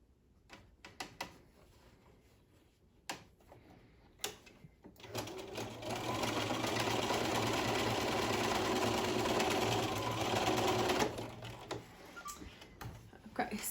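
A sewing machine runs a zigzag stitch to finish seam edges on a V yoke seam, humming steadily for several seconds at close range, framed by handling clicks and rustling before and after.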